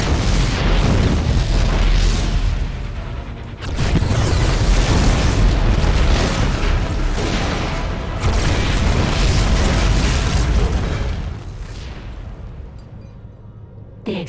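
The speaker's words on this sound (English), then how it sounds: "The explosions have stopped." Repeated deep booms and blasts from explosions in the StarCraft II: Heart of the Swarm video game, loud and dense with rumbling bursts that continue for most of the stretch, then fade away toward the end.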